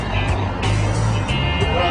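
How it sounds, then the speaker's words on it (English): Large tour bus engine rumbling steadily close by as it is being parked, a continuous low drone with slight surges, while people talk over it. "I'm gonna park the bus."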